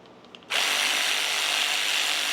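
A power tool whirs on steadily after a sudden start, loud and close, removing an alternator bracket bolt on a Jeep Patriot.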